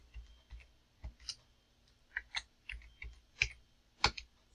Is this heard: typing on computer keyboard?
yes